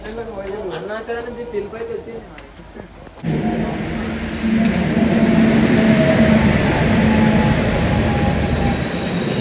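A train rumbles steadily at a station with loud, continuous rail noise; voices and chatter are heard at the start before the train noise takes over.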